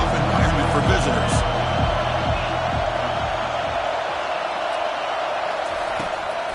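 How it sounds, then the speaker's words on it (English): Dense crowd roar fills a football stadium during an early third-down play, steady and loud throughout with a broadcast commentator talking over it. "Listen to the crowd energy here in the early going."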